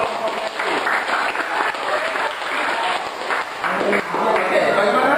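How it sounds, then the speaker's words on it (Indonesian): A classroom of students at a vocational school claps together, a dense sustained round of applause lasting several seconds, with voices mixed in underneath. "Ya, kita beri tepuk tangan dulu."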